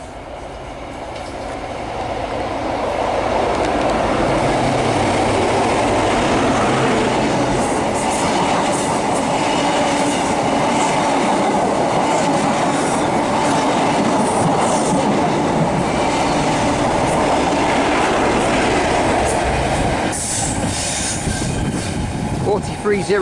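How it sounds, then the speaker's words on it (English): A Great Western Railway passenger service from London Paddington to Penzance passes through Devonport on the Cornish Main Line, a loud sustained rumble of wheels on track with rhythmic clatter and brief squeals, building up after a quieter start and easing near the end. "passing through now after a lunch break is a Great Western Railway service to"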